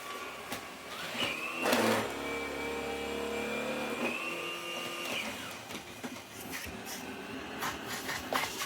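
A Vorwerk VK200 vacuum cleaner runs quietly on its soft setting over laminate flooring, giving a faint, steady motor whine with slight shifts in pitch and no talk over it.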